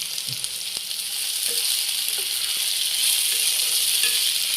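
Eggplant pieces fry steadily in an open, uncovered pan, a continuous bright sizzle with faint stirring clicks and spatters throughout, close and even in level, with no voices.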